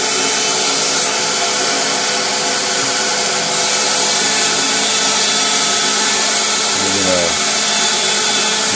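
Steady, loud high-pitched whine of a small CNC drill motor drilling circuit board holes continuously, with a brief lower rumbling dip near the end.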